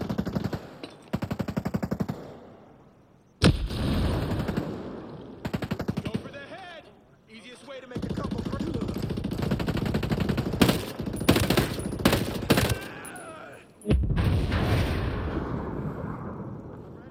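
Gunfire in Ghost Recon Breakpoint during a Spetsnaz team infiltration: loud, close bursts of rapid automatic fire and sharp single shots, broken by short lulls, with voices talking between the volleys.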